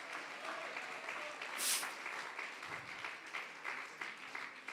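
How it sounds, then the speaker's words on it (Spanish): Faint applause from a church congregation during a Sunday service, steady scattered clapping heard at a distance for several seconds, with a brief sharp high sound partway through. "Yo creo que podemos darle un aplauso mejor al Señor"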